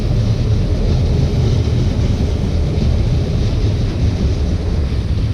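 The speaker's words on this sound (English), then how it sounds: "I'm just gonna let this train go first." Train rolling past on nearby rail tracks, a loud steady low rumble with broadband wind-like noise lasting throughout, no talk over it.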